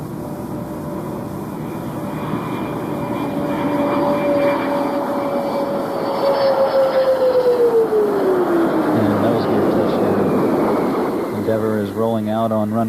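Space Shuttle landing on runway 33 at Kennedy Space Center after its STS-77 mission, a loud steady rushing roar with a high whine that slides downward as it rolls out, under a commentator's voice.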